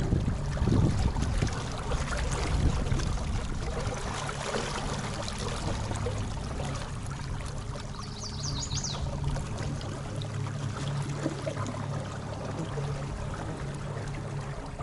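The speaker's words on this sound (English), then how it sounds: "Much easier to control though with the electric motor." A small boat with an electric motor works its way upstream along a narrow creek full of logs and rocks, producing a steady rushing, wind-buffeted water noise with a faint motor hum throughout.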